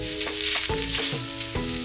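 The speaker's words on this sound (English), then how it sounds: "you can start to saute your onions and garlic" Onions and garlic sizzle steadily in a hot pan, a close, even frying hiss with soft stirring scrapes and a few clinks of the utensil.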